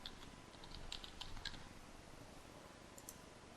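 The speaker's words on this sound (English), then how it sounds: "in the user tip, I'll type in enter fan horsepower." Fingers type on a computer keyboard, a short run of faint, quick clicks bunched in the first half and a couple more near the end, over a low background hiss.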